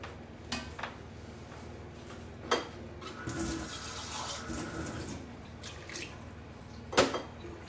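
Water poured into a curry sauce of sardines, chicken and carrots slowly simmering for lasagne, heard as a few short splashy drips and a brief trickle over a low, bubbly cooking background, with no talk.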